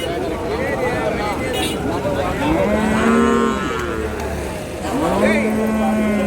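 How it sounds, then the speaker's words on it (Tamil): Heifer calves at the Mattrapalli cattle market in Tirupattur give two long, close moos a couple of seconds apart, heard under someone talking and the murmur of the market crowd. "அந்த கண்ணுக்குட்டி எல்லாம் கிடாரி குட்டி தான்"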